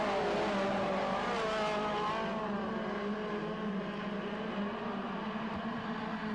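Speedway race cars roar around a showground track in a 35-lap race, several engines layered at full throttle in a dense, sustained howl with shifting pitches as cars jostle through traffic.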